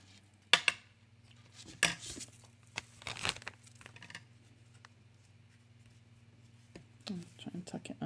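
Scissors snipping a small piece of paper for a card craft, a few sharp close cuts and paper rustles separated by pauses, over a faint steady hum.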